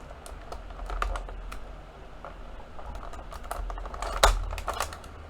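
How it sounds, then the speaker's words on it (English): Plastic ties on the packaging of a Masters of the Universe Revelation Battlecat toy are snipped through during an unboxing, giving a run of close, light clicks and snips with one sharper snap near the end. "Oh, we have more plastics that I need to cut through."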